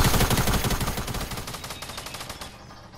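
Loud, close automatic gunfire in a video game rattles off as a rapid, evenly spaced burst that slowly fades over about three seconds.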